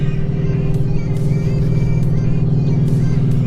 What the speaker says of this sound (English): just because of the sound of this car, the neighbors think that you're speeding through the neighborhood